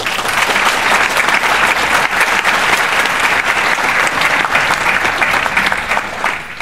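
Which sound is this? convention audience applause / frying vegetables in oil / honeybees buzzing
convention audience applause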